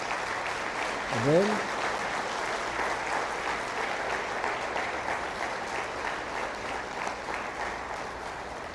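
A congregation applauds the Lord during a Sunday worship service. The clapping is sustained and even, with crowd noise beneath it and a voice calling out briefly near the start.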